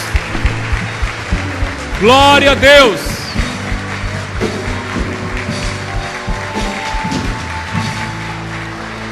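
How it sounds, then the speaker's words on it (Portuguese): Applause rises briefly from a church congregation, short bursts of clapping under a preacher's amplified voice, which sings out loudly in the middle before the talk continues. "Dê uma salva de palmas ao Rei dos Reis."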